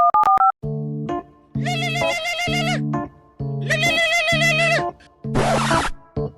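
A phone call ringing tone in a comedic skit: short electronic tone bursts repeat in a steady on-off pattern, loud and close, with no talk over them.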